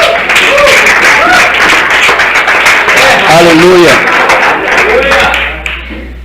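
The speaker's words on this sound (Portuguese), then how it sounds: "Você pode dar um aplauso à palavra de Deus?" Church congregation applauding during a service, steady loud clapping mixed with shouts and voices, tapering off at the end.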